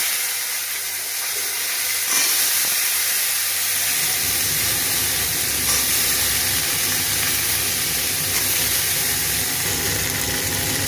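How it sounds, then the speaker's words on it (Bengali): Cauliflower florets fry in hot mustard oil with five-spice seeds and a green chilli, a loud continuous sizzle and hiss that swells after a couple of seconds and holds steady, with no voices. "এগুলো ফুলকপিগুলো ভেজে নিচ্ছি"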